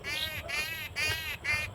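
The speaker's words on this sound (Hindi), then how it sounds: "चिड़िया की चहचहाहट आपको सुनाई दे रही होगी।" Birds calling over an open farm field, repeated harsh, cawing bursts in four close phrases with short gaps, fairly loud and near, with no talk over them.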